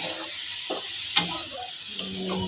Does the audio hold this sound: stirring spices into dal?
yes